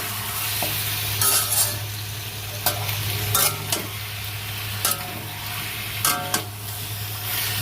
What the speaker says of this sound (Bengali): এবার চিকেনটা একটু ভাজা ভাজা করে নেবো প্রথমে ভালো করে।